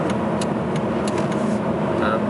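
A 2013–2019 Volvo S60 on a test drive, with a steady broadband engine and road hum filling the cabin throughout, level and continuous with no distinct events.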